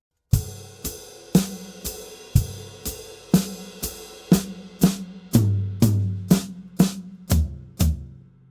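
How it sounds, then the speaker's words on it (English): A drum kit plays a steady groove with the hi-hat foot on every eighth note, evenly spaced kick and snare strikes and a ringing tone beneath the beat. "The first example with the hi-hat foot on every 8th note should sound like this."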